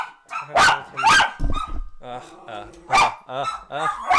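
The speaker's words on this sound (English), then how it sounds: "Noisy dogs." Several dogs bark loudly and repeatedly in close, irregular bursts, with yips and harmonic whines mixed in, making for a noisy, overlapping indoor chorus.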